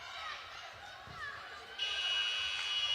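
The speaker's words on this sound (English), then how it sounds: "the buzzer sounds" End-of-quarter buzzer at a school netball match, a loud sustained electronic tone that cuts in partway through and holds to the end, over crowd chatter and commentary.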